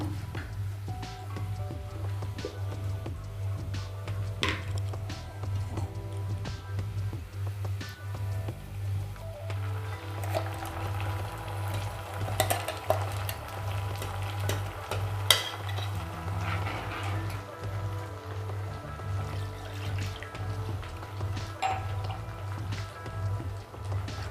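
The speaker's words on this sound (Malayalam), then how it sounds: "ഇനി നമുക്ക് അരച്ച് വെച്ച മസാല ഒഴിച്ചു കൊടുക്കാം." Ground masala is poured into a pan of sautéed shallots and stirred, with faint sizzling and occasional scraping over a steady low hum.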